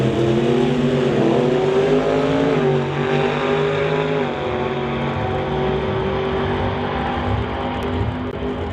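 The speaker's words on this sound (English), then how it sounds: "So Lane Woolley gets to the stripe first with a 769 with a 177 miles an hour, and 852 with a 260 miles an hour for Mike K" Drag race cars, including a Pontiac Firebird, roar down the strip at a drag racing qualifying event, with loud sustained engine howls rising in pitch as they accelerate throughout, no talk over them.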